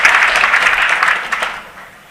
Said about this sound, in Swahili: Makofi kwa our deputy president.